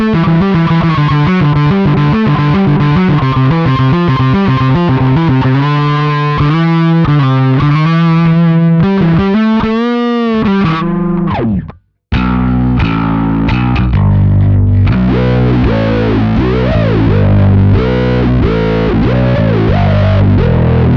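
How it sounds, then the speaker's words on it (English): A bass guitar plays through a distorted wah effect, thick fuzzy notes with sweeping vowel-like filter swells, a brief cut to silence midway, then a heavier riff with pronounced wah sweeps, loud and alone. "I do enjoy a little bit of distorted wah from time to time"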